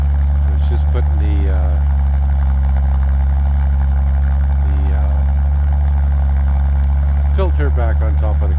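The engine of a Bombardier Bomber snow machine idles on a cold morning while warming up outside, making a loud, steady low rumble throughout, with people talking briefly over it.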